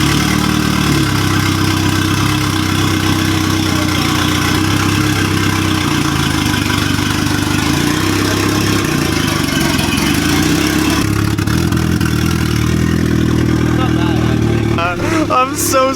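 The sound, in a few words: Honda Civic 2.0 engine idling with temporary exhaust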